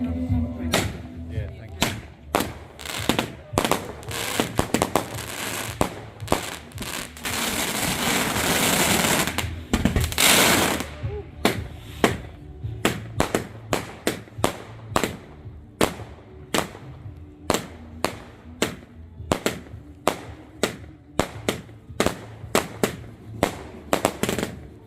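Bonfire Night fireworks exploding in a long series of sharp bangs and crackles, some close and loud, with a dense crackling stretch early on and scattered pops throughout, people talking now and then.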